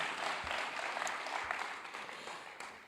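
Audience applauding at an investment conference in Africa, a dense, steady wash of clapping that fades slightly toward the end.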